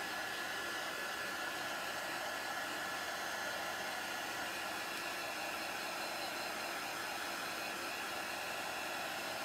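A hair dryer blows steadily to dry chalk ink on a T-shirt, a constant loud whooshing roar that holds unbroken throughout with no talking.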